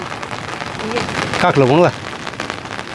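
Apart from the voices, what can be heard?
rain falling in the mountains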